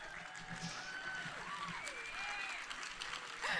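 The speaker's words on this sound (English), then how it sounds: "I like it when you guys applaud." A convention audience applauds, soft steady clapping heard at a distance with whistles and cheers rising over it and a brief louder burst at the end.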